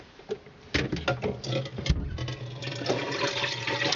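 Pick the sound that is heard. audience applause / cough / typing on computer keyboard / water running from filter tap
water running from filter tap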